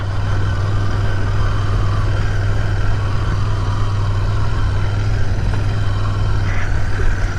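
Steady, close engine idle of a 2022 Royal Enfield Interceptor 650 parallel-twin motorcycle, a deep even rumble holding constant throughout with no voices over it.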